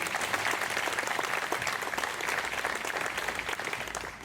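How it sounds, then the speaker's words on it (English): Audience applause at a rededication ceremony for a college's Main Hall, a dense, steady burst of clapping from a large crowd lasting throughout, fairly close and even in loudness. "If we could give her a round of applause as well."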